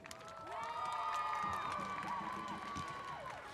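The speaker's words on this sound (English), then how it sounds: "Please give another round of applause for Brendan Dupree." A stadium crowd at a high school football game applauds and cheers for a player, a broad roar of clapping and voices under sustained feedback-like tones from the public address system.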